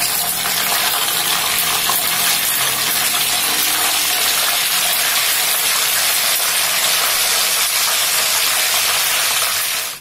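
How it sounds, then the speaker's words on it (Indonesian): Tuna frying in a pan at home, a loud, steady sizzling hiss that holds evenly for about ten seconds and cuts off abruptly at the end, with no talking over it. "Jadi saya mau goreng ikan, kebetulan yang ada ikan tuna."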